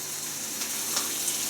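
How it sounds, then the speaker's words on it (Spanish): Bacon sizzles and crackles steadily in a frying pan on the verge of burning, a dense continuous hiss with faint pops, close and even throughout with no voices. "Se nos está quemando el bacon."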